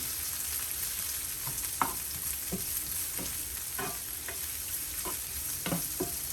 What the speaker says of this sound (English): Give it a stir. Make sure everything gets covered in the oil.